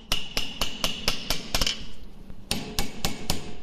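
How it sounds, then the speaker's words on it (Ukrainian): A small hammer strikes a steel vise during riveting work, making sharp, ringing metallic taps. The taps come at a steady, even rhythm, close and loud, with a short pause partway through before the blows resume. "По суті, приблизно ось таким молоточком невеличким"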